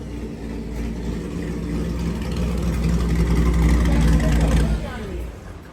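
A Corvette C5 Z06 on a dyno revs hard and loud, the deep engine roar climbing steadily toward the rev limiter before cutting off abruptly near the end, with voices heard faintly in the room.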